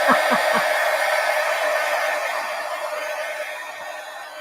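A hair dryer blows steadily over paint on a collage journal, a loud, close, continuous whoosh that fades slightly toward the end, with a few soft knocks at the start.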